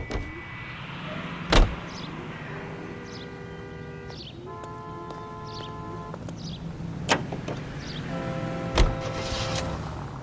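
Car driving in the L.A. Noire video game, a steady low engine drone with faint tonal hums running throughout and a few sharp clunks or knocks at intervals, with no talk.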